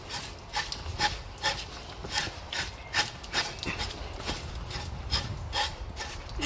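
Hair being scraped off a scalded pig carcass in a shed, a close run of rhythmic rasping strokes at roughly two per second, each a gritty scrape, with no talking.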